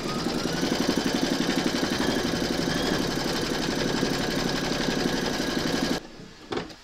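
An embroidery machine stitches round three of a large skeleton appliqué in its hoop, a loud, fast, steady mechanical whirring and ticking that runs for about six seconds, then stops abruptly, leaving a brief clunk.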